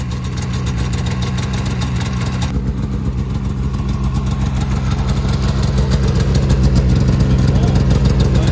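A Polaris RMK 600 snowmobile engine, sitting beside water with clutch problems, fires up after a pull and settles into a loud, steady, close-up idle, a rapid clattering two-stroke beat that runs to the end.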